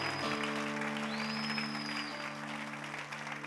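A church congregation claps together in a full, sustained round of applause, with a held organ or keyboard chord ringing underneath.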